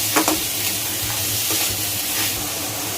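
Fried bottle gourd with sugar is stirred in a pan, giving a continuous close sizzle with a few soft scraping strokes over a low background hum.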